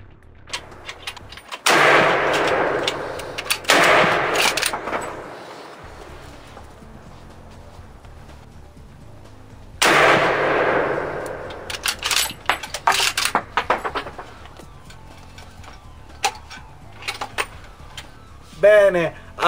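A 1938 Mosin Nagant 91/30 bolt-action rifle fires at a range. Two loud reports sit about eight seconds apart, each followed by a long rumbling decay, then sharp metallic clicks and clatter of the bolt working and cartridges handled nearby.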